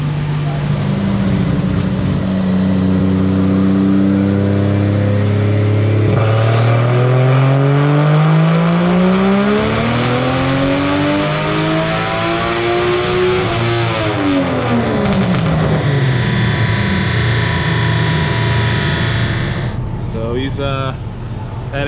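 A turbocharged 1.5JZ engine in a Nissan 240SX revs on a dyno, a loud, sustained run sweeping its pitch steadily upward through the gears, peaking and falling before cutting off abruptly near the end.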